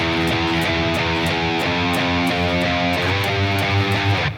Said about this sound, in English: it ends with this simple 3-note figure that has a slight little slide here going on.